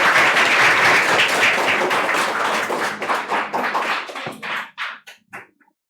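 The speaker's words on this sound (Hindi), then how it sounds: "चलिए आप सभी इनके लिए ताली बजाइए।" Students clapping at a school Teacher's Day celebration: a loud, dense burst of applause that thins into scattered individual claps and fades to silence by the end.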